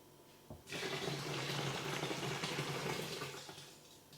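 Hot water pours into a fermenter onto Mangrove Jack's beer kit malt extract, a sudden steady rush of running water starting after a brief pause, close and continuous before easing off at the end.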